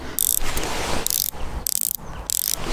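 Rotating bezel on a Pagani Design PD-1651 watch, giving short bursts of fine, crisp ratcheting clicks, four close-up turns separated by brief pauses, with no talking.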